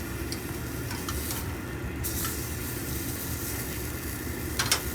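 Meat sears in a hot pan, giving a steady close sizzle with occasional stirring and scraping touches and a brief louder spatter at the end, no talking.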